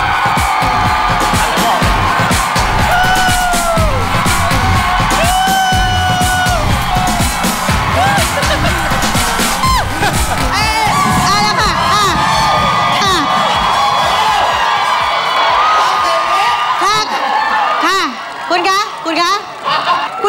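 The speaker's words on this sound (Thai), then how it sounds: "ขอเสียงปรบมือให้กับคุณหญิงรัฐาคุณเอกกี้และคุณลิฟสุพจน์ค่ะ" A studio audience at a televised Thai dance competition cheers, whoops and claps for the judges, loud and sustained, with shouting voices and laughter mixed in before it thins out near the end.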